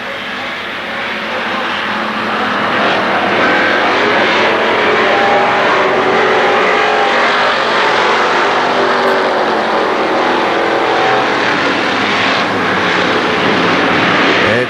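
Stock race cars roaring around the Kil Kare Speedway oval during the Labor Day Championships, a dense, continuous engine drone that swells louder and stays loud as the pack runs nose to tail.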